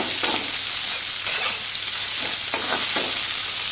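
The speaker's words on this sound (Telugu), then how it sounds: "గోల్డెన్ బ్రౌన్ అయ్యేదాకా ఫ్రై చేసుకోండి." Snake gourd with curry leaves frying in a pan, a steady close sizzle filling the whole stretch, with a few soft stirring scrapes mixed in.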